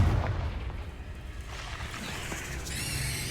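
A Confringo blasting spell from Hogwarts Legacy bursts with a heavy boom at the start, then a rumbling decay under ambient game noise, with a brighter magical shimmer rising near the end.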